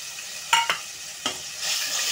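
Ground onion and tomato paste with ginger garlic paste fries in a pan for soya chunk kurma, a steady sizzle broken by a few sharp stirring scrapes, near and loud, with no talk.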